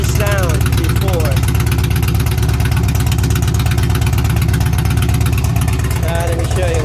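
Harley-Davidson motorcycle fitted with a lollipop exhaust idles close by, a loud, steady low thumping beat with a rough rumble that holds evenly throughout.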